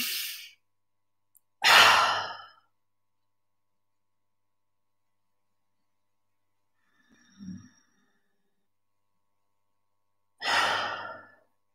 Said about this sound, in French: On va prendre 3 grandes respirations à votre rythme